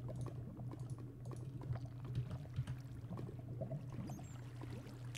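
Water placed in Minecraft gives a soft, continuous bubbling and pouring gurgle, quiet and steady for about five seconds, with a low hum underneath.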